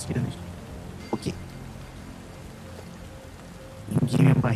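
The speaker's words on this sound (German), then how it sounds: "Stimmt, da regnet es." Rain falls in the video game Satisfactory as a steady, soft hiss running through the whole stretch, with brief bursts of talk at the start and end.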